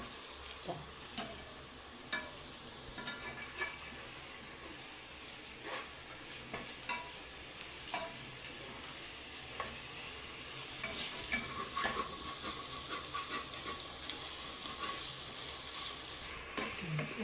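Onions frying in a pan for a Kerala-style pork curry, a steady low sizzle broken by repeated clicks and scrapes of a spoon stirring, close and fairly quiet with no talk.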